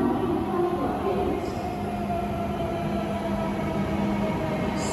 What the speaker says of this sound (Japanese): さあ列車やってきました。